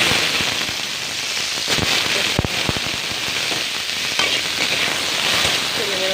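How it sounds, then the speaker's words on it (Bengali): Potato and papaya pieces fry together in a pan, a dense continuous sizzle and crackle with occasional sharp pops and scraping, close and steady throughout. "দেখুন আমি আলু আর পেঁপেটা ভাজা করে নেব।"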